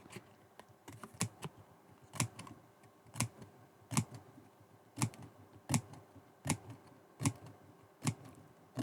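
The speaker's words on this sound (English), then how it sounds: "Okay, so make sure those scissors stay straight." Sharp snipping clicks of scissors cutting card, repeated at a steady irregular pace, close and fairly quiet with no talking.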